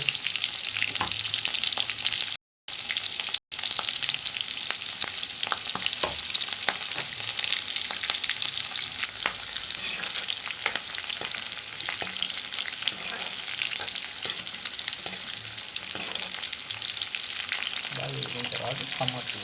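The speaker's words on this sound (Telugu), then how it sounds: "కళాయిలో కొంచెం నూనె, కరివేపాకు, ఉల్లిపాయ మిరపకాయలు కోసుకున్నవి, కరివేపాకు" Onions, chillies and curry leaves fry in oil in a kadai with a steady, loud sizzle and occasional stirring scrapes, continuous throughout with a brief cut near the start.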